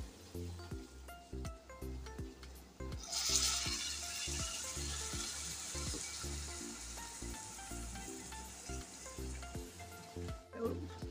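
Rice and freshly grated coconut are sautéed together in a pan for traditional narali bhat. A steady sizzling hiss rises after a few seconds and carries on beneath rhythmic background music.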